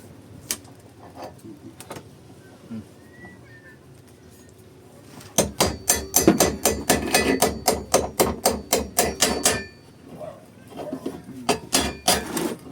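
Rapid hammer blows ring out in a dense burst, loud and close, after a quieter stretch, then a few more strikes near the end.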